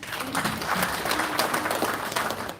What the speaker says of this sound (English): Another round of applause for Mr. Mbure.